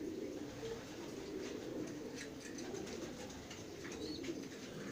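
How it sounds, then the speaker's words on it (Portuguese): Breeding pigeons in a loft in Bahia, Brazil, cooing softly and steadily in overlapping low murmurs, with faint chirps and rustling, moderately close and continuous, no talking. "Aqui é o pombal dos reprodutores."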